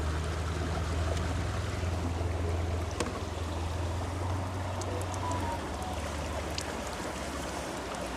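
Steady water trickling and pouring continuously from a portable water filter, a soft watery wash with a low rumbling hum underneath throughout.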